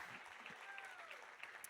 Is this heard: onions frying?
no